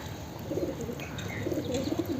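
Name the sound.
pigeon cooing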